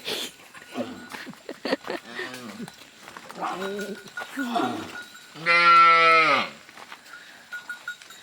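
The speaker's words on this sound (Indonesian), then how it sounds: "Sapi lagi manggil, katanya emaknya ke sebelah mana." A calf lowing several times for its mother, short calls at first and then one long, loud, drawn-out moo; faint background noise between calls.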